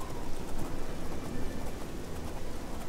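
Steady rain in the game Oblivion, a dense, even patter with faint clopping hoofbeats mixed in, continuous and moderately loud.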